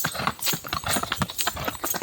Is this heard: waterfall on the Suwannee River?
no